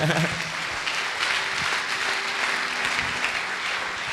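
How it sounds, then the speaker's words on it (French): Audience applause fills a church worship gathering, a steady wash of clapping hands held at an even level for several seconds with a brief louder burst at the start. "Acclamez d'abord pour cette question"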